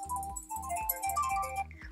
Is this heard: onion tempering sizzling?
no